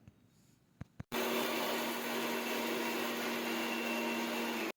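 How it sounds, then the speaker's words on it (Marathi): A mixer grinder whirs at full speed as it grinds water chestnut into flour, loud and steady for nearly four seconds, after a couple of sharp clicks from the switch. "दोन तीन दोन तीन या स्पीडवर आपल्याला हा शिंगाडा बारीक करून घ्यायचा आहे"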